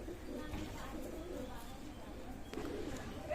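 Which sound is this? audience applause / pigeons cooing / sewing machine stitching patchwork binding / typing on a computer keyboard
pigeons cooing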